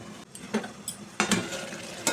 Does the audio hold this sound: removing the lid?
yes